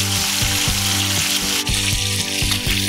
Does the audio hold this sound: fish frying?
yes